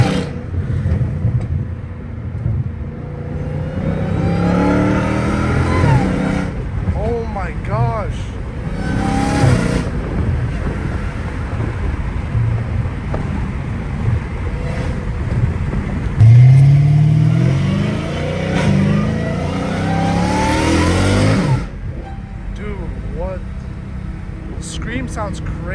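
A catless Dodge Hellcat Redeye, recorded from inside the cabin, roars and revs hard. There are repeated loud surges and a sustained deep exhaust growl, with voices talking over the engine in places.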